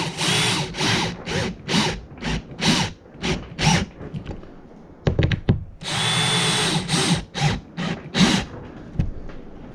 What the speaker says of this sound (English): So I'm going to make sure I'm putting pressure down into the screw because this is a place where you'll strip screws.